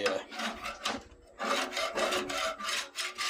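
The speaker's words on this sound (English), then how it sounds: "Get the majority of this off with a putty knife" Repeated rasping strokes of a putty knife scraping old material off a dented metal surface, a steady series of close, fairly loud scrapes with a brief pause near the middle.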